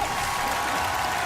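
Audience applause and cheering fill the clip from start to finish as a dense, steady wash of clapping and crowd noise, with no talk standing out over it.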